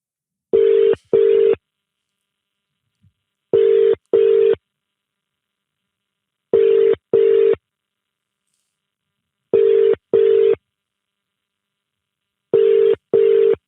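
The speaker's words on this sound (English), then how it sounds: "I'm just going to dial." A telephone line rings for a podcast call, sounding a loud double-pulse ringback tone that repeats about every three seconds in a steady pattern, with silence between each pair of pulses.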